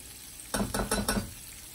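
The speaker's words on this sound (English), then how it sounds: "They're sizzling already." Cheese curds frying in hot oil give a low steady sizzle, then a few short louder bursts of crackling about a second apart before settling back to the quiet background hiss.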